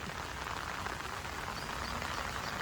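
Steady rain falls on a home fish pond stocked with tilapia fingerlings, an even, dense hiss of drops hitting water and surfaces, moderately loud and unbroken, with no voices.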